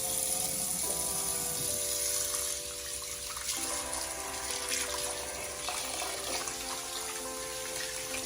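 Water runs from a tap to fill a warm bath for soaking hair units, a steady full-bodied rush that continues the whole time under sustained tonal background sound.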